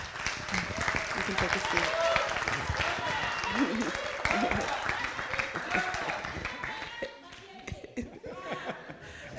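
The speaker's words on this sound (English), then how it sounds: "everybody give them a round of applause" A room full of people at a young social entrepreneurs' pitch contest gives a round of applause with scattered chuckles. The clapping is steady and fairly loud for several seconds, then thins out as a voice speaks.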